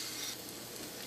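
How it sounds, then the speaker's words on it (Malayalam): Chicken pieces tipped into a pan of mixed masala for a Kerala-style nadan chicken curry, giving a steady, close hiss of sizzling and frying that holds through the short moment with no talk. "ഇതിലേക്ക് നമുക്ക് ചിക്കൻ ചേർക്കാം"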